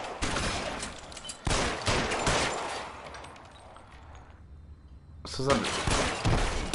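Blind gunfire roars in L.A. Noire in long, loud volleys of rapid shots, broken by a brief lull before another burst. Someone speaks briefly.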